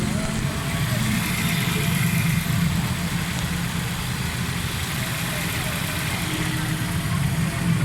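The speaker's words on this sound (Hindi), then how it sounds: "ये गाड़ी स्टार्ट है।" Automatic 2005 Honda City engine idling after repair, with replaced spark plugs and a cleaned throttle body: a steady, even low hum runs close and continuous throughout, with no talk over it.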